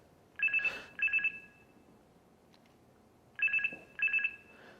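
A cell phone ringtone goes off in a theater during a stage play. It trills in two quick pairs, then pauses, then trills in two more pairs, clear against a quiet room.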